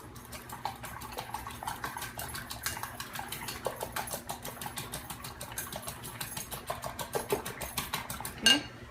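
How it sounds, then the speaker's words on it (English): A utensil clinks and scrapes rhythmically against a bowl while chicken strip coating ingredients are mixed, a quick steady clatter of light taps with a louder knock at the end. "So just gonna mix everything up and then we're gonna start dipping"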